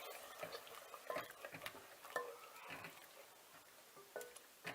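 Homemade white pasta sauce being stirred in a pot, giving faint, irregular scraping and clinking taps spread through the moment, quiet and close with no talk.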